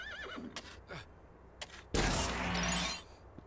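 A horse whinnies loudly in the Lego Indiana Jones video game, a single bright neigh of about a second that rises out of quieter game sounds and is preceded by a few short clicks and chirps.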